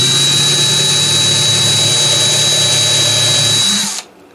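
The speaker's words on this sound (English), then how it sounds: "we've got the bridge plate ready to be re-drilled" A power drill with a 3/16 bit bores into a guitar bridge plate, giving a loud, steady high motor whine close up for about four seconds before cutting off abruptly.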